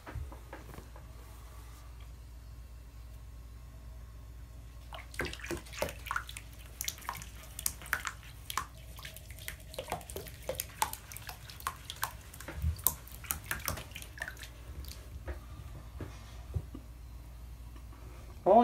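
Sunny splashes and paddles in bathwater in a bathtub, making intermittent sloshes and drips that come in bursts over a quiet, hollow room tone. A voice speaks at times.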